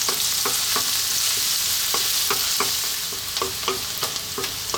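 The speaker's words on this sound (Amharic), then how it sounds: "ነጭ ሽንኩርቱንም ግማሹን አሁን እንጠብሳለሁ" Garlic frying in oil in a pan for a tuna broccoli pasta, a bright continuous sizzle with repeated rhythmic scraping taps as it is stirred, close and steady throughout.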